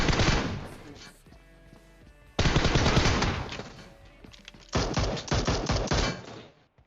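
Bursts of rapid automatic gunfire in a video game come in two or three volleys separated by brief lulls, loud and close, with sharp cracking shots.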